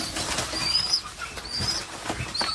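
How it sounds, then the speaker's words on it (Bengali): Native domestic pigeons make soft, intermittent sounds up close: faint cooing and light rustling flutters of wings, with no talking. "এদের মা বাবা হয়েছে এই কবুতরগুলো এই দেশি কবুতর"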